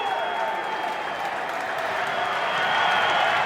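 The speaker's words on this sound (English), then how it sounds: "And a standing ovation." A stadium crowd at a rugby league match rises in a standing ovation, with dense, sustained applause and cheering that swells slightly toward the end, under faint commentary.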